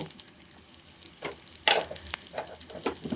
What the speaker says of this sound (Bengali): তেলটা গরম হয়েছে, এখন আমি 1 মুঠ পেঁয়াজ দিয়ে দিতেছি।